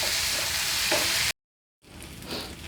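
Tamarind frying in a pan while Bhringraj leaf chutney is cooked, a steady loud sizzle that stops abruptly, then resumes more softly after a short silence.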